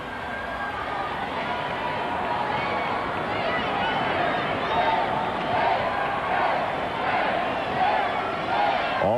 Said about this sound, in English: you can hear the crowd going crazy in the background for Georgia